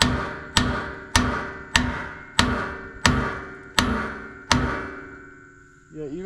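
Seven heavy, evenly spaced metal hammer blows strike the bent front shock mount of a first-generation Toyota pickup, each one ringing out briefly before the next, followed by a short scrape at the end.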